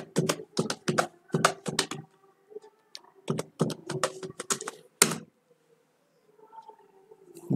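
Bursts of quick, crisp keystrokes on a computer keyboard come in close clusters separated by short pauses, with a few sharper isolated taps like a key press, then near silence with a faint hum.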